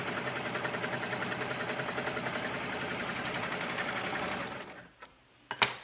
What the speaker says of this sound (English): I'm going to sew this seam again.